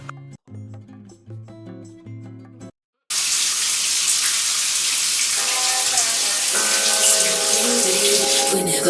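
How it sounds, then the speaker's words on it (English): Shower water running in a bathroom, a steady broadband hiss that cuts in abruptly after a few seconds of music and continues loud and unbroken, with music faintly audible underneath. "let me just quickly go take a shower"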